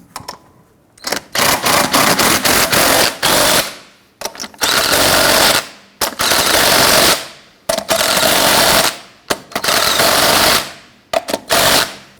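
An impact wrench snugs the lug nuts on a Jeep Grand Cherokee wheel in loud, close bursts of rapid hammering. About six separate runs are split by short silent pauses.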